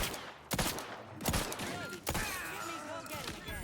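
Gunfire bursts in the video game Outer Worlds 2, with sharp shots near 0.5, 1.3 and 2.0 seconds over game ambience and whistling effects, mixed with other sounds.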